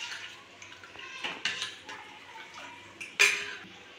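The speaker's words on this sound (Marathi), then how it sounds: "मी कढल्यामध्ये ताक घालून निपटून घेणार आहे आणि हे ताक व्यवस्थित हलवून घेणार आहे" Buttermilk stirred in a small metal pan holding leftover tempering oil: soft, quiet scraping with a few sharp metallic clinks scattered through, no talking.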